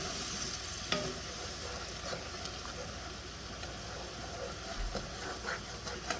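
Marsala wine bubbling and reducing in a pan for chicken marsala, a steady soft sizzle and simmer with a few scrapes and clinks of a utensil, close and continuous with no talk.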